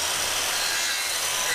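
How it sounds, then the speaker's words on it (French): A piece of wood sawn by hand for a homemade BMX manual-practice stand, heard as a steady, close, continuous rasping hiss with no clear pauses between strokes. "donc c'est parti, on découpe tout de suite ça"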